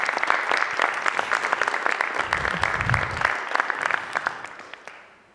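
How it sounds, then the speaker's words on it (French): An audience applauds Sabine at a presentation on the LIFE Habitats Calanques project: steady, dense clapping from a room of people that holds even for several seconds, then thins and fades out at the end. "Je crois qu'on peut l'applaudir aussi."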